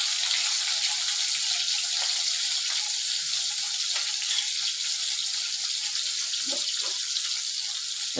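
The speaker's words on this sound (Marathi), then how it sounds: "तुम्ही बघू शकता मस्त टमाटे आपले फ्राय होत आहेत" Tomatoes fry in a pan with a constant, even hiss of sizzling oil that carries on for several seconds, and a few faint clinks come near the end.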